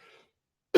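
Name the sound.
coughing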